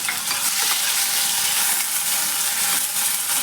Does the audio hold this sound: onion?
yes